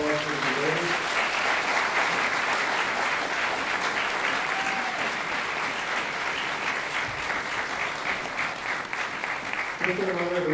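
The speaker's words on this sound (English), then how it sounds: "Give a round of applause for the debate." Sustained audience applause closing a Calvinism debate, thick continuous clapping at an even level for about ten seconds, with brief bits of a speaker's voice at the very start and end.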